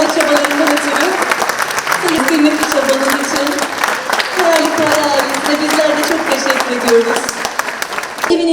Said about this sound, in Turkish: alkışlıyoruz değerli